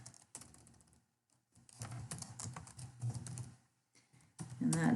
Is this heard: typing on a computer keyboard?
yes